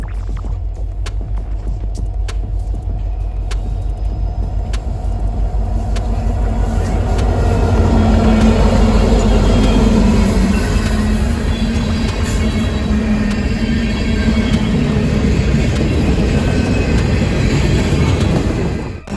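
A train hauled by EMD diesel locomotive power rolls past close by with a loud rumble, rising to a peak midway and holding, as steady wheel clatter and rail noise continue through the pass.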